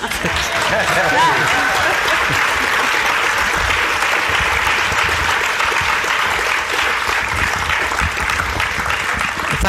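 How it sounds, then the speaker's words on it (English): Steady, dense applause from a conference audience after a talk, loud and sustained throughout with no break. "You don't need my permission to clap."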